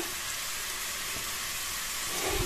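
Tomato pieces frying in hot oil in a pan for a fish curry, making a steady, close, even sizzle and hiss with no voices over it.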